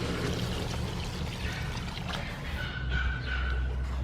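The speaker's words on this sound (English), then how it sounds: "Add some water." Water poured into a pot of beef stew seasoned with kaffir lime leaf and star anise: a steady, close, continuous pour that trickles on throughout, with no voices.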